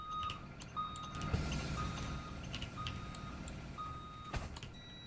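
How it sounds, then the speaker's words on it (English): Repeated high-pitched seatbelt warning beeps inside a school bus, each tone steady and sustained, sounding several times over a constant idling engine rumble. "that beep, a more higher pitch beep, is the seatbelt."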